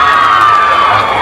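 A crowd of female fans at a Peruvian music show cheers and screams loudly and continuously, close and dense.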